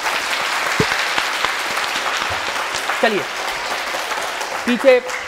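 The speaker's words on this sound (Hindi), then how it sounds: "मैं सब बच्चों से कहूंगा एक बार ताली बजाइए" Children clap together for Archana at a community news gathering, a dense patter of many small hands that fades as someone speaks over the end.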